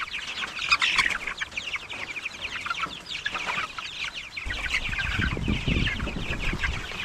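Young chickens cluck and peep in a barn on freshly laid straw and hay, overlapping calls near and steady, with some low rustling and background noise in the second half.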